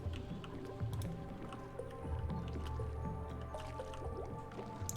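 Water gurgles and drips from a pump in Oxygen Not Included, a soft, wet squishing trickle over a low steady hum, faint and continuous throughout.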